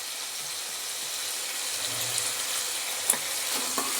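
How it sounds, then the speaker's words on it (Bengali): Beans and potatoes frying in a pan with salt, a low steady sizzle with a few soft scrapes and a faint clink near the end, no talk. "চলো আগে শিম আর আলুটা আমি একটু ভেজে নিই লাল লাল করে।"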